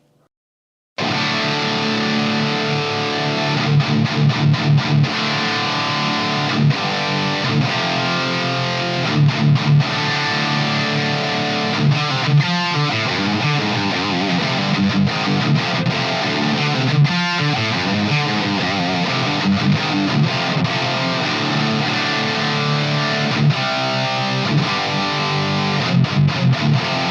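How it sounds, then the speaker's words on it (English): Heavily distorted electric guitar on a Schecter bridge pickup, played continuously for nearly half a minute, loud chords and riffs with short choppy breaks, no talking. "So let's start with distortion on the bridge pickup."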